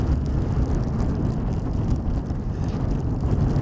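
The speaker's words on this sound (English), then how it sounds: "We have like wind gusts up to 25 and 30 knots at the moment." Strong, gusty wind buffeting an outdoor microphone beside the Polderbaan runway at Schiphol Airport, a continuous low rumble that swells and eases without any other clear sounds.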